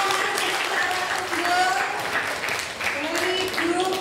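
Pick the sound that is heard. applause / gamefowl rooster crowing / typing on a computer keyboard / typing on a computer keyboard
applause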